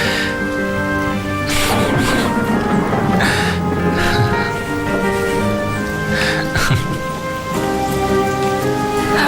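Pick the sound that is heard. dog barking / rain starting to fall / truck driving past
rain starting to fall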